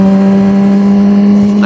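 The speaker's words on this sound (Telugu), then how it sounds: "Inline four symphony." A Yamaha R1 inline-four superbike engine drones loud and steady at high revs with a smooth, sustained tone, rising slightly at the very end, with no voices.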